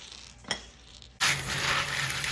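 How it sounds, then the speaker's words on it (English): Dry pinto beans rinsed under running water, a brief clink of beans or a utensil and then a sudden, loud, steady rush of water pouring over them close by, with no voices. "What I'm doing now is I'm giving my beans a very good rinse."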